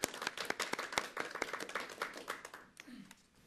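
Audience applause after a jockey interview at a horse racing event, brisk clapping from a small crowd that fades out, with a faint voice at the close.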